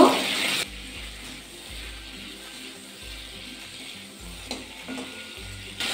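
A chhana (fresh cottage cheese) mixture with salt and slit green chillies is stirred while frying in a pan. A steady sizzle runs under repeated rhythmic scraping strokes of a spatula, with a louder clatter at the start.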